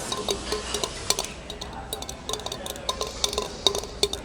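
Light, irregular clinks of ice against a glass of cold water, close and delicate, with small taps scattered over a quiet room background.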